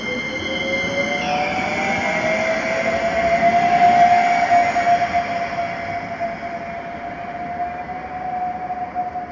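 A train rumbles past close by near a station in Tallinn, Estonia, its wheels squealing in a long sustained high whine over the steady rolling noise.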